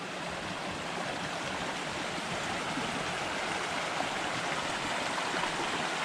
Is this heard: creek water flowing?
yes